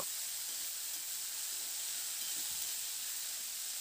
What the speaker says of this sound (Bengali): ওই মূলোগুলোকে দিয়ে খুব ভালো করে একটু নাড়াচাড়া করে কয়েক মিনিট একটু রান্না করে নেব।